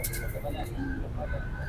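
Caged pigeons at a pigeon market give soft, repeated coos under a constant murmur of nearby voices and market bustle.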